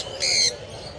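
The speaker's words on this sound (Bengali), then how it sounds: "এই যে একটা সুপার ট্যাম দেখা যাচ্ছে, ইয়েলো রিং নেক প্যারট" A yellow ring-necked parrot at a bird market gives a single short, loud, harsh squawk close by, then the background settles back to quiet ambience.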